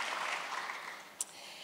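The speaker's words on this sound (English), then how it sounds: "that deserves a round of applause" A soft wash of applause from a crowd, fading gradually, with one brief sharp clap near the end.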